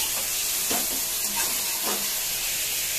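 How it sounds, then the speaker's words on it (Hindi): Kadhai chicken frying in a pan and being stirred, a steady close sizzle with a few soft scraping strokes from the spoon. "और अच्छी तरह से इसको भुनाई करनी है"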